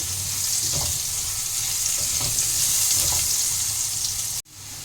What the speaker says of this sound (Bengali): আলুটা আমি বেশ গোল্ডেন ব্রাউন করে ভেজে নেব